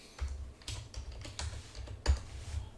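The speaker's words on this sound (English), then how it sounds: "Now I'm going to use the upper arrow key on my keyboard, just to repeatedly hitting it." Rapid keystrokes on a computer keyboard during Linux terminal work on Linux Mint 21.1 Cinnamon, a quick irregular run of close, crisp clicks with one louder tap near the end, no talking.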